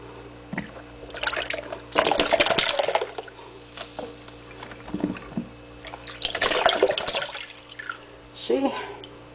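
Water sloshes and splashes in bursts as a small drink bottle is rinsed, the gurgling noise coming in several uneven waves at close range, with faint talk between them.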